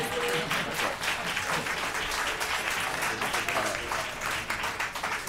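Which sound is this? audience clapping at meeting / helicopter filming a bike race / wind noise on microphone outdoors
audience clapping at meeting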